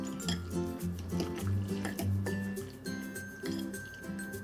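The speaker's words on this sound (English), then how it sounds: "Add a little bit seasoning salt, white pepper, Tsp wine, and sesame oil. And we'll just mix this up." Pork marinating with seasoning salt, white pepper, wine and sesame oil being mixed in a bowl, giving wet squishing and dripping sounds with light clinks, close and fairly quiet under background music.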